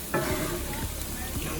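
A steak browns in a hot pan for smothered steak with onion gravy, giving a steady close sizzle and hiss with some stirring noises and faint speech-like sounds in the background.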